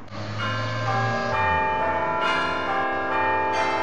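A large, newly cast Paccard foundry church bell at Notre-Dame du Bourg cathedral rings out loud and sustained, its deep overlapping tones and long shimmering overtones filling the air.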